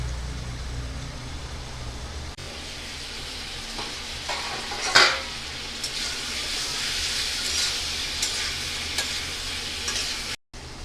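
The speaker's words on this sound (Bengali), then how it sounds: "ডালের বড়াগুলো উল্টিয়ে দেব। এক সাইড ভাজা হয়ে গেছে সুন্দর।" Masoor dal fritters (lentil bora) fry in hot oil with a continuous close sizzle. A brief scraping clatter comes from turning them midway, and no voices are heard.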